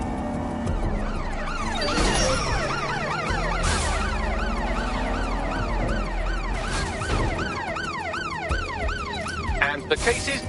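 Wailing ambulance siren in the game Watch Dogs: Legion, loud and continuous with rising and falling sweeps that overlap as several sirens layer over traffic noise and passing cars.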